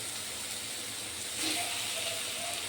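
Tomatoes hit a hot frying pan with spice paste during cooking of a Bengali pabda fish and poppy-seed dish, and a steady broadband sizzle swells midway and keeps hissing loudly without talk.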